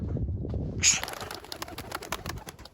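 Turkish tumbler pigeons, a hen with a young bird, outdoors: low, soft cooing up close, followed by a brief flurry of fluttering and scattered chirpy sounds.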